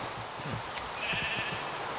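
Sheep bleat faintly in the video game Minecraft, a soft, brief, wavering bleat rising over a low hiss with a small click partway through, quiet and fleeting.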